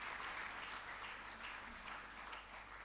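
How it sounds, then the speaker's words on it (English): Audience applause at a publication launch ceremony, a dense, steady wash of many hands clapping that holds throughout and fades slightly toward the end, with no talk. "put our hands together and give them a round of applause"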